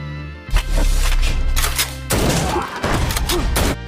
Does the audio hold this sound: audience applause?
no